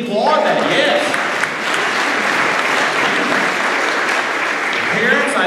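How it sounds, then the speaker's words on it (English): Steady applause from an audience fills the entire stretch, dense and sustained at an even level with no pauses. "parents, yeah, we need to applaud that, yes."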